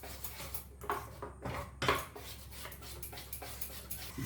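Gram flour batter stirred with hot oil in a bowl for Bengali banana-flower chops, a run of close clinks and scrapes of a utensil against the bowl, uneven in rhythm with a louder knock near the middle.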